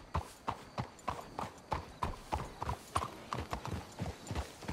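Horses walking in the Red Dead Redemption 2 video game, a steady clip-clop of several hooves in an even, overlapping rhythm, moderately close with faint ambience beneath.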